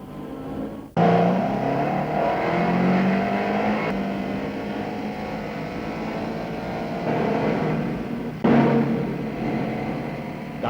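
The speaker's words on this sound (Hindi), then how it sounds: "गाड़ी बहुत तेज चला रही हो" A car driven very fast, its engine roaring steadily with rising and falling revs, loud and close throughout, with sharp jumps in level near the start and near the end.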